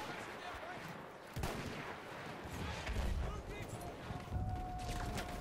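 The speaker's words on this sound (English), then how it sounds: "Also, they've got artillery." Booming artillery fire in the Battlefield 1 game, with a sharp blast near the start and further heavy thumps later, mixed with gunfire and a player talking over the battle noise.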